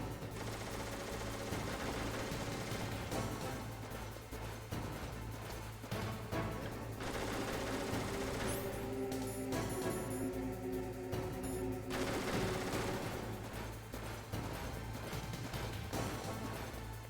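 Machine gun fire from the video game Metal Gear Solid rattles in bursts over a constant low hum of game ambience, with crashes and impacts throughout and no talk.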